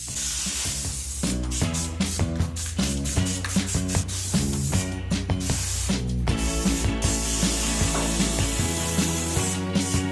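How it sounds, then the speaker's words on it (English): An aerosol spray can dusts satin black paint over the engine bay of a '65 Mustang, giving a continuous loud hiss under background music. "I'm very briefly just gonna dust the general engine bay with some satin black"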